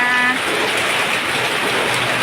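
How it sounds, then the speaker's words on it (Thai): Heavy rain falls in a loud, dense, continuous hiss, pouring down close by as water collects and fills storage jars. "ฝนตกแล้ว ฝนฉ่ำนะ"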